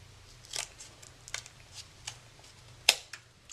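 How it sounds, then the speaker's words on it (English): Scissors snip through paper for a mini photo sleeve album, a series of soft, close crisp cuts at an uneven pace with one sharper snip near the end, no talk. "So just grab your scissors and just cut right up to the edge"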